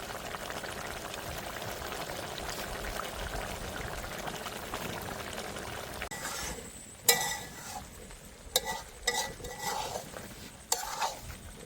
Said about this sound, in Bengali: এবার আমরা দিয়ে দেবো পরিমাণ মতন ঝোল।